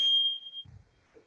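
An interval workout timer sounds one sharp electronic beep, loud and close, then fades out into quiet room noise during a home Brazilian jiu-jitsu training session.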